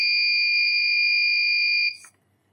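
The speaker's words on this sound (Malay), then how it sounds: "Dan buzzer kita berbunyi dan lampu merah menyala." A steady, piercing electronic buzzer on an Arduino mini barrier gate drones continuously for about two seconds, then cuts off abruptly into near silence.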